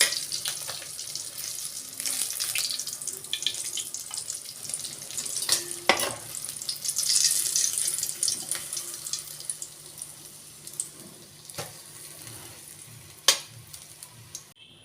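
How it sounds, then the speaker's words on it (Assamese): Pieces of fish frying in oil in a wok for a mustard fish curry, giving a steady close sizzle with sharp crackles and spatters, a few louder pops standing out, and no talk over it. "এতিয়া মই ৰঙচুৱাকৈ ফ্ৰাই কৰি ল'ম।"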